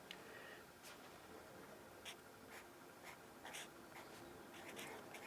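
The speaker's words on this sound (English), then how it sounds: "So I'm going to write that down." A pen scratches out a handwritten quote in short, faint strokes with brief pauses between them, close and quiet over a soft room hiss.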